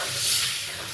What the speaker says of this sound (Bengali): এবার আমি কড়াইতে জল দিয়ে দিচ্ছি।